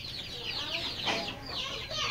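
Layer and desi chicken chicks kept on a small poultry farm cluck and chirp faintly and continuously, a soft overlapping chatter of several young birds close by.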